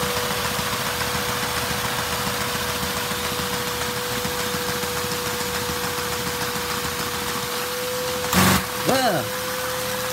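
Small Lego inline-four vacuum engine running steadily with a fast-spinning flywheel, a continuous mechanical whir with a steady tone, and a couple of brief clicks and knocks near the end.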